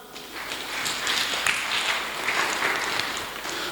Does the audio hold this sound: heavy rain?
no